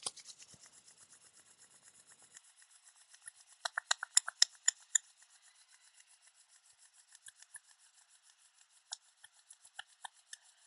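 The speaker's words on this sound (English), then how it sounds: "And then rub your hands together." Palms rubbing briskly together, a steady run of soft, dry swishes close to the ear, quiet and alone with no talk.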